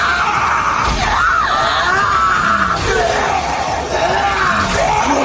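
A devil in the Chainsaw Man anime shrieks in agony, loud wavering screams and yells rising and falling over a dense, constant background.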